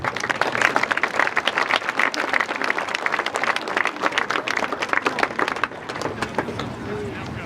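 Audience applause for high school cheerleaders at a fall sports kick-off event: a dense, steady wash of many hands clapping throughout, loud and close, with crowd noise and some voices mixed in, thinning slightly near the end.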